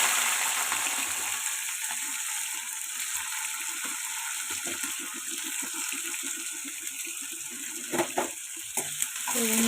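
Chopped capsicum sizzles steadily in hot oil with salt, a continuous crackling fry with faint stirring scrapes and a few louder pops near the end, with no talking.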